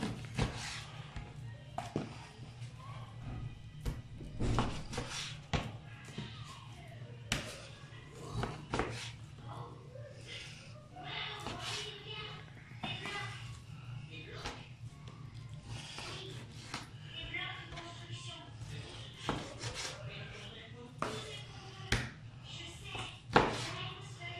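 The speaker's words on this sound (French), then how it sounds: "Je vais recouper un peu la viande parce ça fait quand même de gros morceaux." A knife chops beef into smaller pieces on a cutting board for a beef bourguignon, a steady series of close, sharp taps and knocks at an irregular rhythm over a low background hum.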